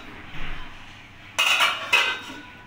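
After a quiet stretch, a metal lid comes off a pan of chili chicken with two short, close clattering clinks.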